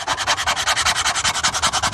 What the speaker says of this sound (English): these power sanders aren't all they're cracked up to be